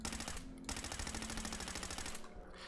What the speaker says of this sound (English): Maybe I use the cheap ammo.